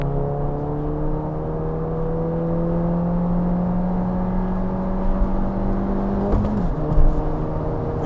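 A stock-looking Seat Leon FR with Stage 1 tuning idles with a steady engine drone, then revs briefly and drops back near the end, all close-up inside the car.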